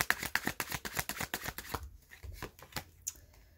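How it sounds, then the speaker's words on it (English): A deck of tarot cards being shuffled close up, with a rapid run of crisp riffling flutters that slows into a few scattered card snaps. "we'll pull a few more cards for you, Leo"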